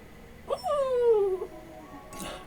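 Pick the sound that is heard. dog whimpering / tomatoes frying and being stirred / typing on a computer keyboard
dog whimpering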